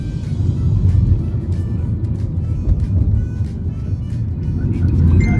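Steady low rumble of a ride-hailing car moving through Bangkok traffic, heard from inside the cabin, continuous and moderately loud with faint road and engine noise throughout.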